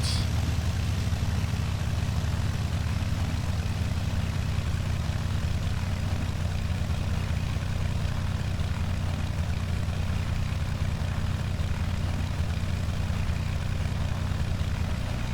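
Steady, continuous propeller drone and engine rumble from a simulated Beech V35B Bonanza piston aircraft in X-Plane, loud and unchanging for the whole stretch with no speech.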